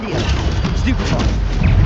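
Spells Incendio and Stupefy cast in the Hogwarts Legacy video game, a dense, continuous burst of magical blasts and crashing impacts layered together with no pause.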